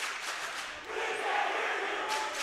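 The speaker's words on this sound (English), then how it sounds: "It's a competition of the rowdy crowds." Rowdy crowd at a varsity high school basketball game between Frederick and Skyline, a dense, loud roar of yelling and cheering that swells after the first second and stays steady in a big echoing gym.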